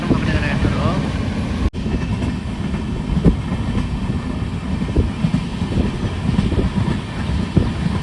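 A weekly superfast express train from Kacheguda to Mangaluru Central runs alongside a beach in Kerala, its steady rumble and faint wheel clatter filling the scene from onboard, with a brief dropout early on and no voices.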